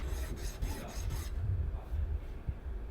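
Glue residue being scraped out of a guitar nut slot, with a run of close, rasping file-like strokes at first, then softer, steadier rubbing.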